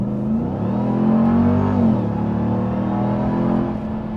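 Close, loud revving from a 2024 Ram TRX Final Edition pickup, a deep rumbling engine that swells to a higher pitch, eases off, then holds a steady growl, with no voices.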